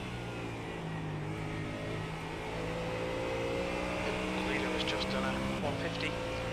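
A race car engine in iRacing pulls hard out of Parabolica at Monza, its harmonic drone climbing steadily in pitch as it accelerates. A voice talks quietly underneath.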